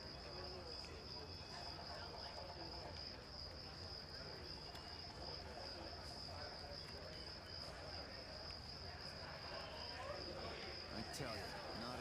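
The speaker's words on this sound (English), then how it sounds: "The crickets are back." A continuous chorus of crickets trills steadily and faintly over low background noise, unbroken throughout.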